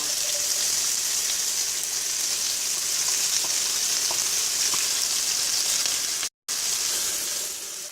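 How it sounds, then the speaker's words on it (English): Chopped onions fry in hot canola oil, giving a loud, continuous close-up sizzle and crackle with faint spattering pops. The hiss cuts out briefly near the end, then resumes. "It's finally hot, the canola oil is hot, so now we're going to put our onions in"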